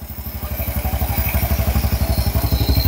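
A heavily smoking motorcycle with a wet exhaust runs close and loud, its engine pulsing in a steady, lumpy rhythm of firing thumps and light clatter for the whole stretch, with no one talking.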